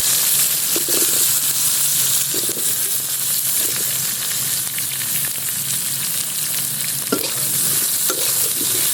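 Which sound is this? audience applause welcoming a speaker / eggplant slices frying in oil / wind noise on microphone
eggplant slices frying in oil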